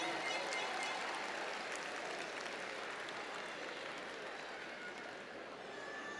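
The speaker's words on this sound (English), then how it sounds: "Give them another round of applause, if you will." Sustained audience applause fills a university commencement ceremony, a dense, steady wash of many hands clapping at moderate distance that tapers slightly toward the end.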